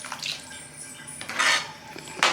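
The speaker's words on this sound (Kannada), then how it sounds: "ಇದಕ್ಕೆ ಬೇಕಾಗಿರೋಷ್ಟು ನೀರನ್ನು ಹಾಕ್ಕೊಳ್ಳೋಣ." Water is poured into a pot of buttermilk sambar, with splashing bursts and clinks of the pot in a quiet kitchen, the pours coming in three short surges.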